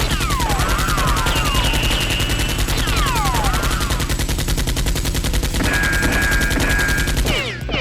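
Toy Nerf gun fire during a staged Nerf war, rapid repeated shots in bursts over continuous loud background music, with no talking.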